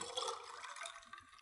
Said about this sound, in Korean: 그러니까 필리드라는 것은 글라스에 바로 채워주시면 되겠습니다